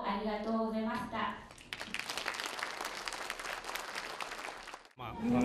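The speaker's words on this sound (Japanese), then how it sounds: "どの出場者にも大きな拍手が送られていました" An audience at a foreign residents' Japanese speech contest breaks into sustained applause lasting several seconds, dense and evenly loud, with a voice speaking just before and right after it.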